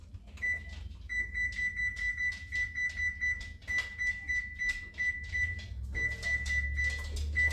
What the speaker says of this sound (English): I am going to start my oven.